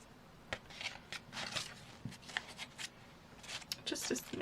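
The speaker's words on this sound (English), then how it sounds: "The threads are ridiculously long. I'm just going to cut them down." Scissors snipping long threads while making a junk journal from packing material, a string of quick close crisp clicks and short rustles in irregular bursts, quiet and close up.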